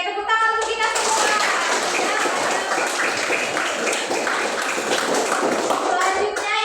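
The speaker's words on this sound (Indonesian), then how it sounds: "Oke, tepuk tangan untuk kita semua" A classroom group claps together, a dense burst of hand applause that fills the room steadily for several seconds, mixed with children's voices.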